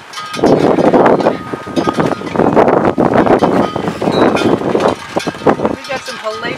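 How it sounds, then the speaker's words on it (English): Strong, gusty wind batters the microphone outdoors in dense roaring bursts through the whole stretch, loud and close, with faint clinks underneath. "We got some hellacious wind here today"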